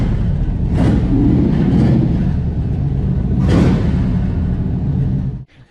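A car with a NASCAR-style 9-inch rear axle rolls into a garage, its engine rumbling near and loud with a couple of brief whooshing surges before it cuts off abruptly at the end.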